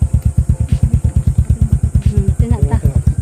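A motorcycle carries passengers toward a seaside beach in the Philippines, its engine chugging in rapid, even pulses close by while voices talk over it.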